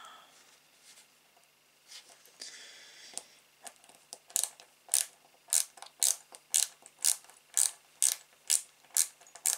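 Parts are screwed onto a model Citroen Type H, giving a run of crisp, evenly spaced ratcheting clicks that grow louder and more regular midway, close up in an otherwise quiet room.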